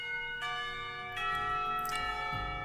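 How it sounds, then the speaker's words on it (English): Bells ring out in the visual novel game Katawa Shoujo, school bells marking the end of class, sounding as sustained, layered bell tones with fresh strikes recurring every second or so over a low background. "bells cry out, ending the torment"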